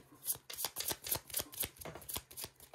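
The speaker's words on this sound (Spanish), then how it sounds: "Voy a barajar para que no haya trampa ni cartón." Playing cards are shuffled close up during a tabletop game of Galeones, Cañones y Doblones, a series of quick riffling bursts and soft flicks repeating in an uneven rhythm, with no talk over them.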